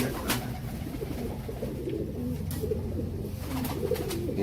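Teddy pigeons, including Sialkoti and Amritsari breeds, coo in soft, repeated low throbbing calls, close by and steady, with a few sharper bird notes over the murmur.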